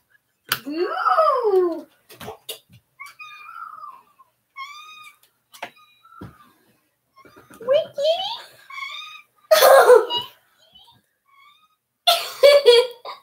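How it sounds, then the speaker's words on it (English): Several loud, drawn-out cat meows, with bursts of rustling and voices in between. "his meow is really loud"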